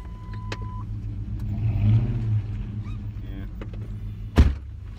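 A big four-wheel-drive pickup truck, stuck in snow during a Virginia snowstorm with its four-wheel drive not working, rumbles low and steady as the engine swells and revs, then a sharp thump near the end.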